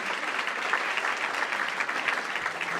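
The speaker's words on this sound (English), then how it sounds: "Please give a round of applause to Hannah Hassan." Steady audience applause at an anniversary celebration event on stage, a continuous dense clapping from a crowd welcoming a spoken word performer, filling the room with no voices over it.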